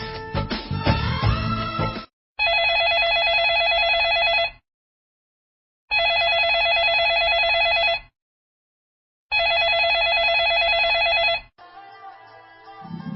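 A telephone rings on a radio call-in show, three loud, evenly spaced electronic ring bursts of about two seconds each with silence between them, following a brief musical tail at the start.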